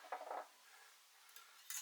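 A few brief scraping, clinking strokes of a utensil stirring shredded carrot and spring onions through sweet and sour sauce in a pan, quiet and close, with short pauses between strokes.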